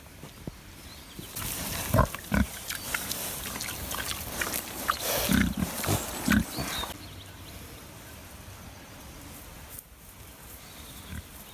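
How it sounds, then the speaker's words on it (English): Pigs rooting in young woodland give grunts and snuffles amid rustling and snapping undergrowth, loudest in bursts during the first seven seconds and then quieter. "Young woodland is the natural habitat of pigs and boars, and they certainly seem to thrive in it."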